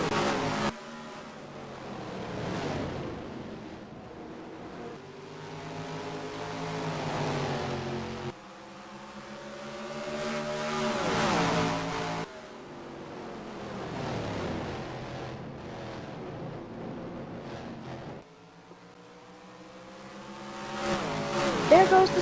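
Race car engines in NASCAR Racing 2003 at Richmond, several cars in close pack racing, droning steadily with rising and falling pitch as they shift and pass, under continuous commentary.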